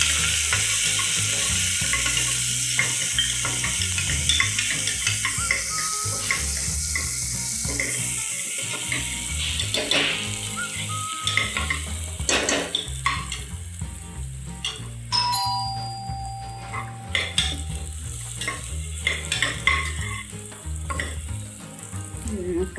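Finely chopped onion frying in a pan with mustard seeds, cumin and curry leaves, giving a steady loud sizzle with scattered crackles and clinks of a utensil against the pan.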